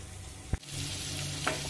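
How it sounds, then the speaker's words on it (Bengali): Vegetables simmer in a pot for a healthy vegetarian dish, giving a soft continuous bubbling hiss broken by a single sharp knock of a stirring spoon early on. "তো আরও 3 থেকে 4 মিনিট আমি ফুটিয়ে নেব।"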